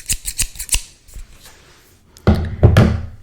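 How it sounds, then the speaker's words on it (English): Quick snipping of scissors blades cutting open a package, several crisp cuts in a row, followed by a couple of heavier thunks and handling noise close by. "I also have my scissors in case we need them."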